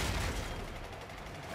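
Rapid bursts of gunfire while shooting green targets in the boss fight of Operation: Rathuum, a steady dense volley that carries on with no pauses and no talk.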